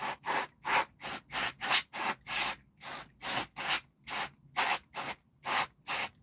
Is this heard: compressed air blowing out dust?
yes